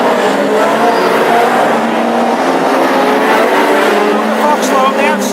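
Classic hot rod race cars compete in a close heat at Northampton, their engines roaring loudly and steadily as the pack runs together, while a commentator talks over the racing.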